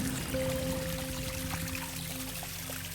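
Stream water flowing down from the hills near a hidden waterfall in Andhra Pradesh, a steady close pouring rush with a faint tonal hum running through it.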